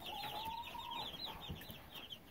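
Chickens of the Sapphire Gem and Silver Laced breeds cluck and call nearby in a backyard coop by a feeder, a run of short bird notes and a longer call at moderate level with no talk.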